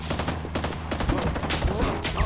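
Rapid gunfire from a Vietnam-era war video game, a dense fusillade of repeated shots filling the moment, loud and close with some talk mixed in.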